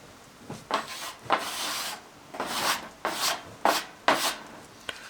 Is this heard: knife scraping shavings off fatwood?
yes